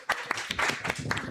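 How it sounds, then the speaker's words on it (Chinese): A church youth congregation claps hands in a brief burst of uneven claps, close and fairly loud, lasting just over a second. "我们拍手就拍手"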